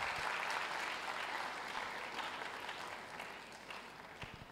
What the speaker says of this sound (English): I'm sure we can give a better round of applause than that.